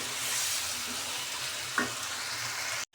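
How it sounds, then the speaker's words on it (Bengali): A spoon stirs mixed winter vegetables and spices through a frying pan for a prawn and vegetable curry. A steady sizzle runs throughout with a single clink of the utensil near the middle, then cuts off abruptly at the end. "এবার সুন্দর করে সবজিটা নেড়ে নেব। মশলাটা সবজির সাথে মিশিয়ে নেব।"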